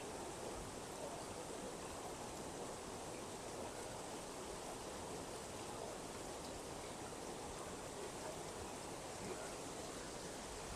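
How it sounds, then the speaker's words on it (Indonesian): Water from a river rushing beneath the high Cangar bridge, a steady broadband wash of flowing water with no break, moderately loud and continuous throughout. "air yang mengalir di atas barusan dari ini, dari satu sungai dialirkan di bagian atas dan di bagian bawah"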